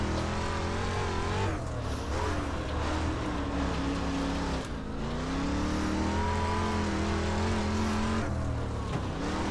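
A street stock race car laps a dirt oval at the Chili Bowl in the iRacing simulator, its engine droning loud and close with rising and falling revs through the corners and no talk.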